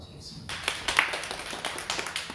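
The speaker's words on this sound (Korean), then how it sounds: "우리 다시 한번 박수 한번 치겠습니다" A congregation claps together during an early-morning church prayer service, a brief burst of hands rising under a voice that keeps talking.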